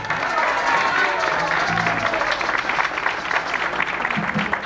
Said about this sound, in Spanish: que se escuche un aplauso